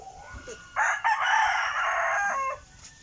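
A rooster crows once in Bicol, Philippines, loud and near, a long strained cock-a-doodle-doo held for nearly two seconds over quiet background.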